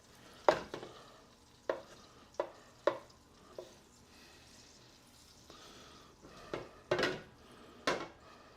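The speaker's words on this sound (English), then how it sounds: "half a cup of butter, half a cup of flour that we're gonna kind of whisk in here momentarily" Butter and flour whisked in a pot for turkey tetrazzini, sharp metallic clicks and scrapes of a whisk against the pan in scattered bursts, fairly close over a faint sizzle, with no talking.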